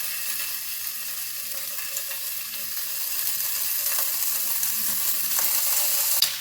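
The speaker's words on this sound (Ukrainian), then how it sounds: "Спочатку потрібно добре обсмажити ось такий бікончик з двох сторін до золотистого кольору" Bacon sizzles and crackles loudly in a hot pan over high heat, a steady bright hiss with occasional sharp pops, no talking.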